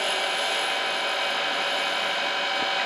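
Tool scraping wood while shaping a T-handle corkscrew down toward its bushing: a steady, continuous, close rasping hiss with no pauses.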